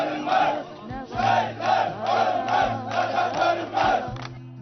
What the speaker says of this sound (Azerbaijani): vətənpərvər şüarların səsləndirildiyi böyük izdihamın iştirakı ilə son mənzilə yola salınıb